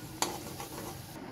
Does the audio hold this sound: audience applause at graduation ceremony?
no